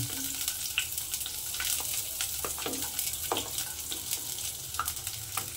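Chopped garlic sizzling in hot oil, a steady crackling fry with occasional sharper spits and stirring scrapes, close and continuous throughout.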